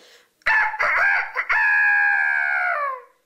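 A rooster crows once, loud and close, a few choppy opening notes leading into a long sustained call that fades out, with nothing else heard around it.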